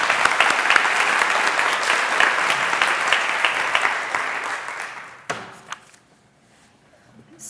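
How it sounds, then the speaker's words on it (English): Audience applause at a book awards celebration in Colorado, a dense sustained burst of clapping from a large crowd that fades out, followed by a few stray thuds and near silence. "So I'll end with some more applause for those people."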